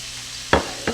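About three tablespoons of butter melting in a pan for a chicken stroganoff thickener, with two quick close utensil scrapes over a soft continuous sizzle.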